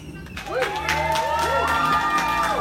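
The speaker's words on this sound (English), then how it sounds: "Keep clapping, keep clapping. We're welcoming her to the stage." Audience at a poetry session cheers and claps for a poet taking the stage, with high whoops and shouts rising over sustained applause from a lively crowd.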